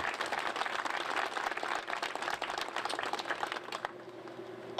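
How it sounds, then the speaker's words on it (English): An audience at a universal pre-kindergarten announcement event gives a steady round of applause, dense clapping throughout that cuts off near the end. "If we can give them a quick round of applause."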